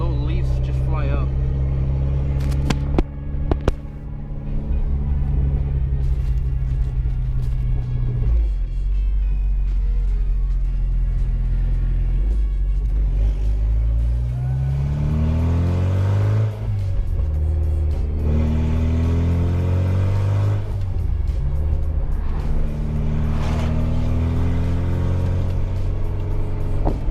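Mitsubishi Evo X with its engine revving and accelerating at night, rising loud throughout with a deep rumble and climbing pitch sweeps; people talk over the engine.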